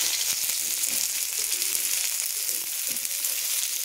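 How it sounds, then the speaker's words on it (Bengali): Chopped onions hit hot oil in a wok and fry with a steady, close, loud sizzle and faint crackles throughout, with no talking. "তো কড়াইতেও তেল গরম হয়ে গেছে। এরপর এখানে দিয়ে দিচ্ছি পেঁয়াজ কুচি"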